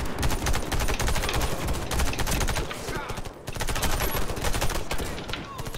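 Rapid automatic gunfire from the online shooter Warface, sustained bursts of dense, loud shots that run nearly continuously with one short pause midway, and faint voices mixed underneath.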